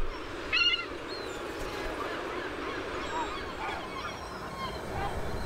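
Herring gulls calling at a nesting colony: a loud, sharp honking cry early on, followed by fainter scattered squeals and yelps over a steady outdoor background.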